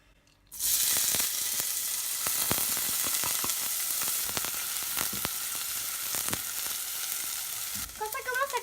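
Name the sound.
chopped onions frying in a pan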